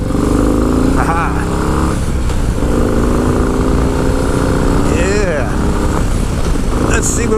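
A 2025 Harley-Davidson Low Rider S rumbles continuously on a test ride, its engine loud and near under heavy wind noise, while a rider whoops and talks over it.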